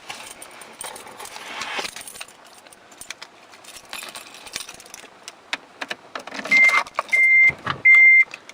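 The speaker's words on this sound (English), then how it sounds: "But let me go turn on the car." Keys jangle and rattle, then a Mitsubishi Galant VR-4's starter cranks in a few short repeated bursts, with engine noise near the end.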